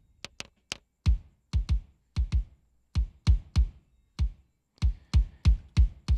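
Kick drum hits from a pop punk mix, replaced with Trigger 2 samples using the Truth Canon preset, sound alone as punchy, close thuds in an uneven pattern of single and paired beats.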